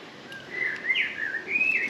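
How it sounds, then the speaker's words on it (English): Several birds singing and chirping along a wooded coastal path at Morecambe Bay toward Heysham, bright overlapping calls and trills rising over a steady outdoor background, fairly near and continuous. "Listen at all the birds."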